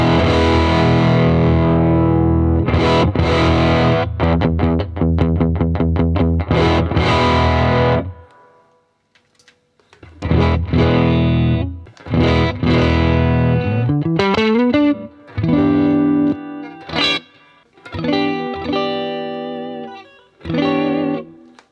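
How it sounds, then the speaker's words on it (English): Electric guitar played through a Marshall DSL20CR amp on an overdriven crunch channel, loud chords and riffs in phrases separated by a short pause, alone with no talk. "a crunchy sound and then an overdrive of some sort to push it over the edge"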